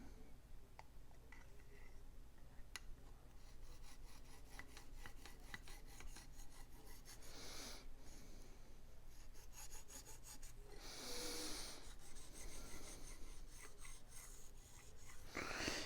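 A knife blade is drawn over the hone of a Smith's Precision Sharpening System in steady, quiet rasping strokes, soft and close, with a few breathy pauses between passes.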